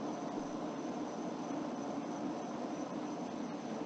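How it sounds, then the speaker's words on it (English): An outdoor air conditioner hums with a continuous, even broadband whoosh, steady and unbroken with no talk over it. "That's my air conditioner."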